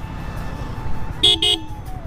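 Two short car horn honks in quick succession, loud and close, over steady road and engine noise from a ride on Indian streets.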